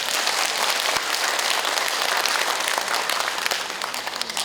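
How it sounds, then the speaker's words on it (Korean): An audience applauds steadily throughout at a memorial lecture marking Korea's patriotism and veterans month, the clapping dense, even and fairly loud with no talk over it. "박수."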